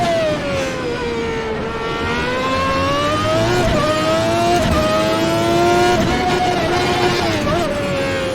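A 1991 Formula 1 car in a racing sim screams loud and close, its high engine note climbing steadily and dipping briefly at each quick gear shift.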